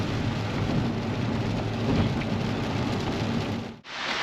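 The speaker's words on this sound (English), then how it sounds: "it's pouring with rain" Heavy rain pours down steadily in a dense, loud wash of drumming on surfaces, unbroken for several seconds before dropping out abruptly near the end.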